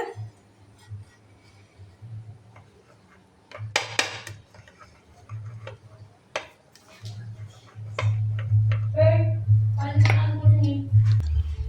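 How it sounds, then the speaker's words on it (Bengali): A spoon stirs a milk mixture in a bowl for Bengali-style homemade rasmalai, with scattered clinks and tapping of metal against the dish, growing busier toward the end, while a person speaks throughout. "এই যে এবার এটাকে গোলানো চলছে।"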